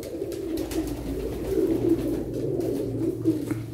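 Pigeons coo steadily at close range, a low, throaty, rolling murmur that keeps going without pause.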